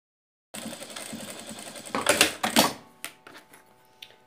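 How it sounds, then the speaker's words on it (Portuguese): A sewing machine stitches both sides of a fabric coin purse, a close, fast mechanical whirr that runs steadily before breaking into short bursts and clicks, alone without talk. "E agora a gente vai fechar aqui com uma costurinha dos dois lados."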